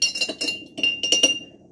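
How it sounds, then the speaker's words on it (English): A metal spoon stirring water in a glass on a countertop, giving a series of bright clinks and taps against the glass in quick irregular bursts, close and moderately loud, with no talking. "I'm just going to use that spoon to stir the water"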